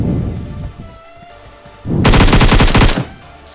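Rapid automatic gunfire in PUBG Payload 2.0 mode as a downed enemy is finished off: a loud, close burst of about ten evenly spaced shots lasting roughly a second, preceded by quieter game ambience and rumble.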